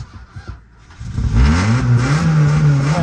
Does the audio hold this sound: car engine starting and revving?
yes